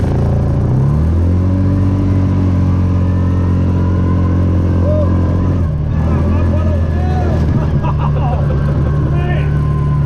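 A 2020 Cub Cadet Challenger MX 750 EPS utility vehicle revving up and accelerating, its steady engine drone rising in pitch near the start and holding loud and close, with people talking over it.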